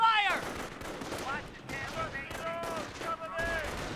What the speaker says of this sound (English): It was shots going off